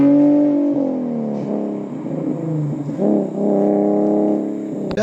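A manual Infiniti G37 Sport's engine revs loud and close, its deep exhaust note rising and falling through several throttle blips, then a brief clatter at the end.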